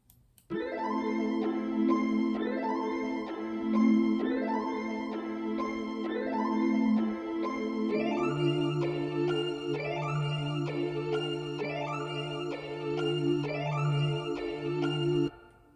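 Two spacey analog synth melodies layered together, bright repeating arpeggiated notes over a sustained lower line that shifts pitch halfway through, playing clearly and steadily with no voices.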